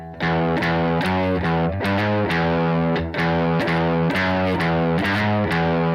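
A distorted electric guitar plays chords in a steady rhythm, each strum ringing out with slides between notes, loud and close.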